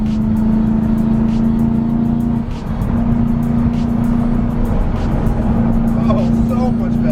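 A BMW E92 M3 on a road test drive after suspension adjustment, its engine holding a loud, steady drone with a brief dip partway through, heard from inside the car.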